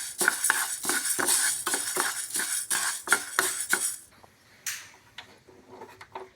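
Moong dal is dry-roasted and stirred in a pan, giving a steady series of scraping, clinking strokes of a spoon against metal for about four seconds before fading into a few scattered taps.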